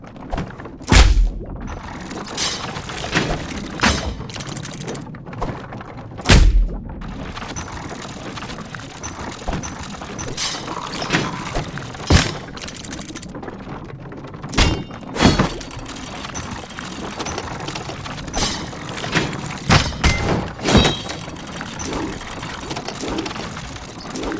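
In the video game Tails of Iron, a shield parries a training dummy's attacks, with heavy thunks and sharp metallic impacts at irregular intervals over a steady game ambience, several strikes standing out loud and close.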